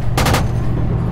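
An M2 Bradley fires high-explosive rounds in the military video game Project Reality, three rapid loud cannon shots in quick succession followed by a lingering rumble.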